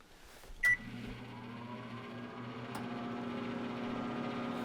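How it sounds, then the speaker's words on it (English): A steady low electric hum of a running microwave oven, preceded by a brief sharp beep near the start; quiet and close. "recorded just the microwave running"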